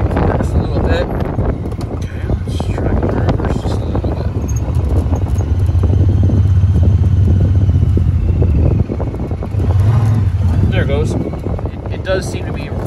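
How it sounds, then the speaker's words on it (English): A 2022 Pioneer side-by-side creeps along slowly in drive, its steady engine drone loud and close, mixed with wind rumble across the microphone and brief chatter of the drivetrain. "So if I go into drive right here, I'll just creep through this a little bit."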